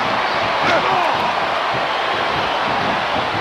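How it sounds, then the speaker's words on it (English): A wrestler is slammed into the ring corner during a tag-team match, a single heavy thud against a steady roar of crowd noise that persists throughout. "Neymar throws him into corner"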